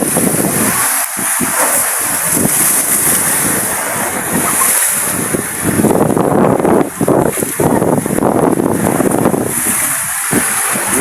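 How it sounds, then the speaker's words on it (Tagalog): Strong wind roars continuously against the microphone while waves surge and crash, a loud, steady rush with gusty swells and no voices. "nang naglakasan ng hangin at alon"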